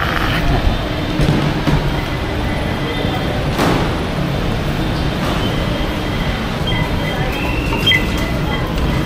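A steady, loud rumble of an MRT metro train fills the whole stretch, with clattering rail noise and a faint voice briefly underneath.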